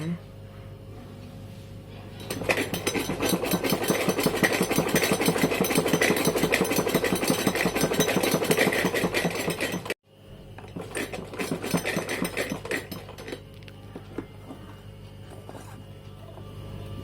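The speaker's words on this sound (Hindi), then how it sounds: "कट से कट मिला करके आपको सिलाई करनी है" Sewing machine stitching pants runs in a steady, fast mechanical rattle for several seconds, pauses briefly, then whirs on more lightly, while a person talks throughout.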